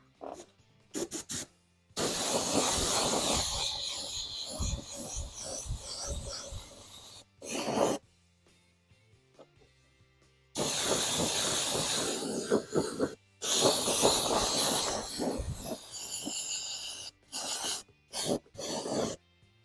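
An airbrush sprays Createx opaque black paint onto an R/C car body at higher air pressure, giving a steady loud hiss in long bursts broken by short pauses and a few quick spurts near the end.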